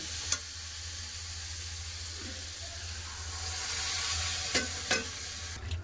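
Vegetables frying in a pan for mung dal, a continuous sizzle with stirring scrapes and a few sharp clinks of the spoon.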